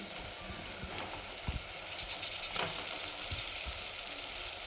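Pieces of bitter gourd frying in a pan with cooked-down tomatoes, a quiet continuous sizzle with low bubbling and a few soft knocks of stirring, with no talk.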